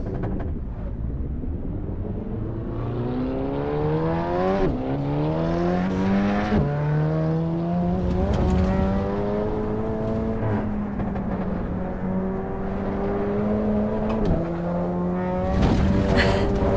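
A Volkswagen Golf engine driving in the racing game Assetto Corsa Evo, a steady droning engine note that climbs in pitch through several gear changes, each shift dropping the revs before rising again, with wind noise underneath.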